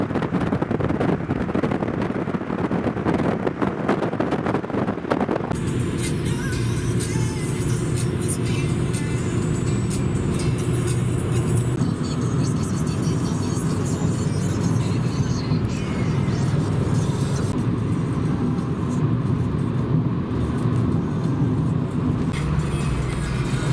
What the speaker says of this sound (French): Nous arrivons sur l'autoroute où l'on peut rouler théoriquement jusqu'à 140 km/h.